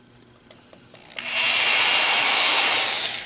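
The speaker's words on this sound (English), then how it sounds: "we're going to go in and drill" A power drill bores a hole in a center-punched cast iron part during a crack repair, starting after a few small taps and settling into a steady, close, loud grinding whine that holds for about two seconds.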